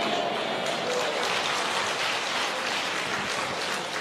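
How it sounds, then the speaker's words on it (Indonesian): A congregation at a church sermon gives dense, steady applause, a continuous hiss of many hands clapping at moderate volume throughout. "Nggak usah tepuk tangan"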